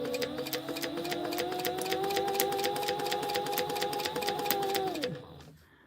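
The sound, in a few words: sewing machine back stitching a crossbody bag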